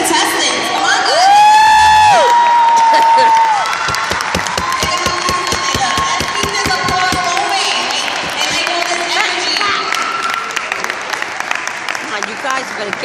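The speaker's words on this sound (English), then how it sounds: "Let's give a round of applause for our 2014 contestants." A crowd at a teen pageant cheers, whoops and claps for the 2014 contestants, loud and close, with shrill shouts and whistles rising over sustained applause and sharp individual claps.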